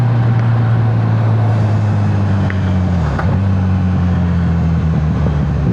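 A Kawasaki Z1000 motorcycle engine drones loudly and steadily nearby, its pitch dipping briefly around midway as it shifts through the gears, with no speech over it.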